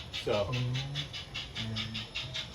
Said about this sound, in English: I'm running the train in the back area on the narrow gauge.